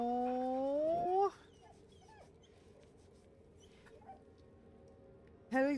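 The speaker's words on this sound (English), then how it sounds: "Petting the dog, Dr. Mew." In Baldur's Gate 3, a dog being petted gives a high, drawn-out whine that rises and breaks off, then after quiet background sound a second short whimper begins at the end.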